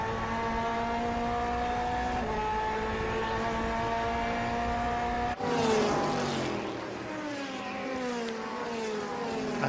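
FIA GT race cars at Monza in 2008 roar past, engines droning steadily at high revs before a sharp shift into a louder, sweeping pass with gear changes.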